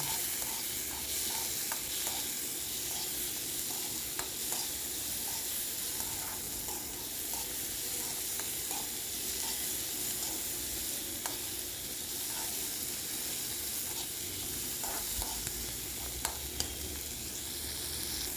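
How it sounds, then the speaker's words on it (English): Ivy gourd stir-fried with tomatoes in a pan, a continuous bright hissing sizzle with faint rhythmic taps and scrapes of stirring, steady throughout and free of talk. "And then you can add tomatoes to it and nicely stir fry."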